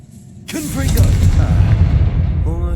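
In Hogwarts Legacy, a Confringo blast spell explodes with a sudden loud boom, followed by a long rumbling roar that fades slowly, with a voice speaking briefly before and after the blast.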